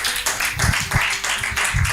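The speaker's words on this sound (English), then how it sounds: "let's give a round of applause to all the runners as well" Crowd claps and applauds for runners at a talent event, a steady wash of many hands with a few louder bursts, moderately loud throughout.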